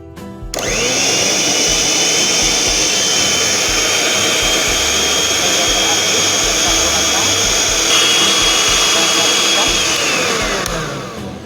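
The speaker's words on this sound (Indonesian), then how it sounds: "Kita kocok lagi dengan mixer." An electric hand mixer beats batter for lumpur surga, a soft Minangkabau cake, with a loud, steady motor whine that runs unbroken for about ten seconds before winding down.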